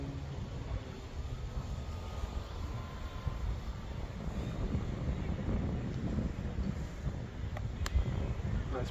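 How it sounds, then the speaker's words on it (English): Strong gusting wind buffets the microphone outdoors during a tri-blade drone test flight, a continuous loud low rumble and roar with occasional sharper thumps. "This wind is killer on it."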